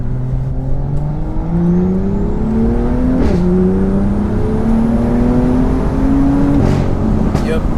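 A 625 bhp big-turbo BMW M2 pulls hard on a damp road, engine climbing through gears with clear shift breaks and a turbo whistle, heard loud from inside with people talking over it.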